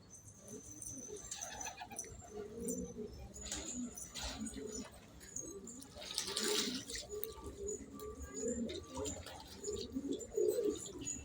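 Pigeons coo repeatedly in a rooftop pigeon loft, their low throaty calls overlapping at close range, with a faint trickle of water and other bird sounds in the background.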